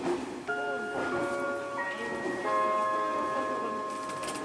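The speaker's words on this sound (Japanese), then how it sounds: "JR 東日本ならではの4点チャイムを流して、列車は間もなく権堂。" A JR East four-tone electronic train arrival chime rings out in stepped notes aboard a train, repeating its short melody over low background rumble, clear and moderately loud.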